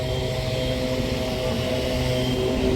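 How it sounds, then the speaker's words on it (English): A large drone powers up and lifts off at a police training day in Leeds, its rotors making a loud, steady, near whirring drone with propeller-like hum throughout, and a leaf blower running nearby. "There we go, it's firing the drone up"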